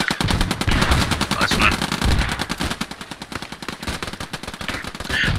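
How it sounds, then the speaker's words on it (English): Rapid machine-gun bursts and rifle shots crackle through a World War II battle in the game Post Scriptum, set at Arnhem, loud and dense throughout with brief radio-style talk over the fire. "We've got fire between the bunker and that wooden hut."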